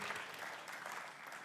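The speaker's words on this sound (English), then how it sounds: "Some applause." A brief, faint burst of crowd applause after a conference talk at Devcon SEA, a soft steady wash of many hands clapping at a distance.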